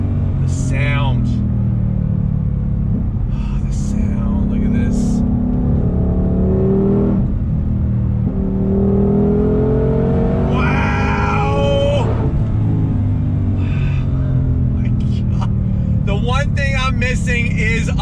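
A Ford Shelby GT350R Heritage Edition's engine revs and rumbles while driving with fast downshifts, loud and continuous, with someone talking excitedly over it throughout.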